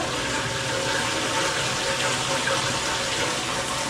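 A toilet cistern refills with water in an abandoned renovated office building, a steady close rushing hiss with no break throughout.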